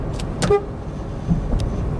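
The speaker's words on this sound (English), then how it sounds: "Has a nice horn, although it's a small car." The horn of a small Opel Corsa 1.4T 100hp car gives two short, clear toots, the first near the start and another about a second later, over a low idling engine and road hum.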